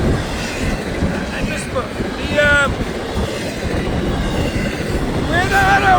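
An FEC freight train rolls past near a bridge under major repair, with a continuous rumble of cars, clattering wheels and brief high wheel squeals, while a person speaks briefly over it.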